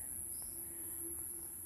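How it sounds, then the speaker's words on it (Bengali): Crickets chirp steadily outdoors on a dewy morning among green grass and banana trees, a faint continuous high trill with a few soft bird calls, no voices. "চারিদিকে ঝিঝি পাখি,"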